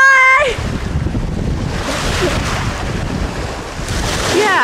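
Waves roll in at an English beach with a constant loud roar of surf, while heavy wind buffets the microphone. Brief voices are heard at the start and the end.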